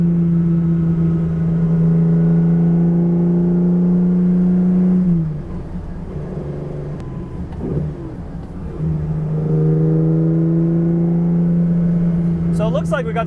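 Ferrari 365 GTC/4 engine droning steadily while driving, a strong low hum that dips briefly as the revs fall, then settles back into a loud, even cruise.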